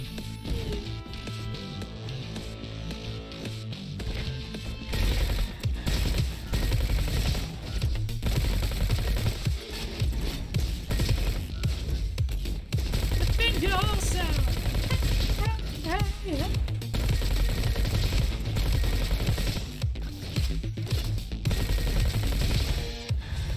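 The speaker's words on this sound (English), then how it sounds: "Assault SMG! Whee!" An assault SMG fires rapid bursts in the RoboQuest first-person shooter game, sharp rattling shots layered over game music and effects, with a player talking at points throughout.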